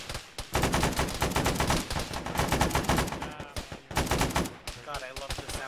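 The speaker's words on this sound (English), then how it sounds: "God, I love the sound of M60s in the morning" Several M60 machine guns fire in a military video game, long rapid bursts of dense gunfire layered together, loud and close with short gaps, and a voice speaks briefly over the shooting.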